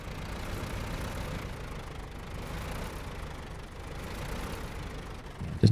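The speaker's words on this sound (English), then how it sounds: "Stop the engine" A truck engine idles in SnowRunner with a low, steady rumble, moderately loud and unchanging, then ends in a brief sharp thump.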